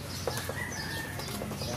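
Chickens cluck quietly nearby, with a brief flurry of wings flapping in the middle of a soft, low-level background.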